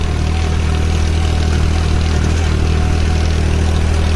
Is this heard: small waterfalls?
no